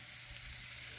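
Sweet potato slices frying in olive oil give a quiet, steady sizzle with soft crackles, heard alone and close.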